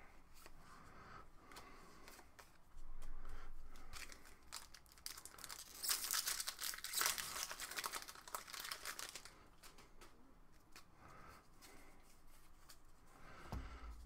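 Foil booster packs of Magic: The Gathering Ixalan cards being torn open and handled, with close crinkling and tearing of foil wrappers and a burst of louder crackling in the middle, plus light card rustling around it.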